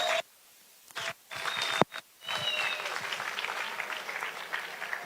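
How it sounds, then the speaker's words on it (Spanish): Applause from an audience at a book fair inauguration in Guatapé breaks out after a short pause, with a few scattered claps first, then swelling into sustained moderate clapping. "Sí, puede aplaudir otra vez fuerte."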